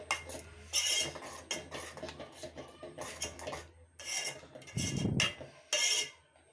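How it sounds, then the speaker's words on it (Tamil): A spoon stirs and scrapes through coconut diet porridge in a pot, producing close, intermittent bursts of metallic scraping and clattering with brief pauses between strokes, and no talking. "நல்லா மிக்ஸ் பண்ணி விட்டுருங்க தேங்காயெல்லாம் கெட்டியாக இருக்கக்கூடாது நல்லா உடச்சி விட்டுருங்க"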